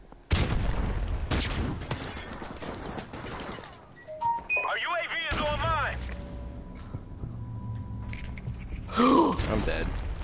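AK-74 rifle fire in the shooter Modern Warfare Remastered, a few loud close bursts at the start, followed by chirping game sounds and people talking over the match.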